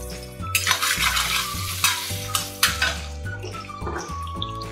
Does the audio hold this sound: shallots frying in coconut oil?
yes